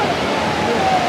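Waves wash up a beach at Mirissa, Sri Lanka, where baby sea turtles are being released, making a continuous loud rushing surf with a voice speaking over it.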